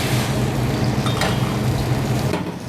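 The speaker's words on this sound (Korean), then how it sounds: "이 상태에서 이제 계란물을 넣어 줄게요" Beaten egg poured into a hot, lightly oiled pan for a cheese rolled omelette, giving a loud, steady sizzle throughout, with a couple of faint utensil clinks.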